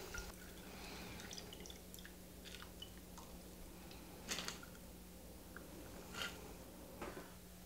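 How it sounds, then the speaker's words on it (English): A Tom Collins cocktail strained into a Collins glass, a faint trickle with scattered soft drips and small clinks of ice over a low background hum, close and quiet, with no talk. "And then we're going to pour our drink in,"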